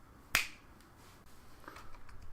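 One sharp, close finger snap rings out early, then only quiet room tone remains.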